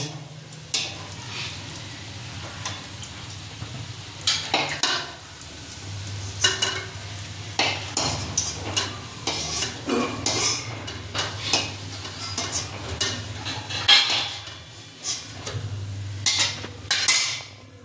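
Battered fish balls sizzle in a pan of oil while a utensil turns them, bringing repeated metallic clinks and scrapes over an uneven, crackling fry.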